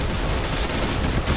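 AK-47 rifle gunfire in a shooter video game, a dense continuous roar of shots filling the short stretch at steady loudness.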